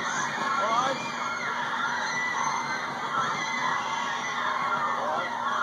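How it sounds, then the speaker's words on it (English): A dense crowd of Ringo Starr fans, packed many deep behind glass, shouts and screams continuously in a loud, steady wash of voices with high-pitched shrieks throughout. "the glass is packed at least 10, 15, 20 deep with shouting Ringo Starr fans"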